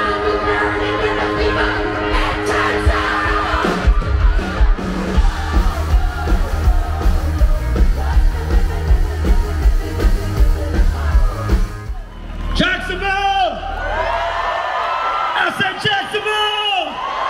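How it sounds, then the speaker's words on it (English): Concert crowd at Jax River Jams whooping and cheering over loud live music, with a roaring surge of yells and shouts near the end as the music drops out. "The crowd really was into it."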